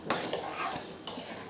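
A metal spoon scrapes and clinks against a pot while sweet mango chutney with jaggery is stirred, a few distinct knocks standing out over a soft continuous scraping, close and fairly quiet, with no talking.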